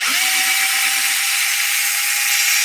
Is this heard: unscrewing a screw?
yes